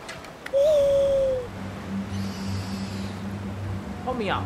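An owl hoots in the Far Cry Primal video game, a single drawn-out call followed by a soft low hum, with a brief higher chirp near the end over quiet game ambience.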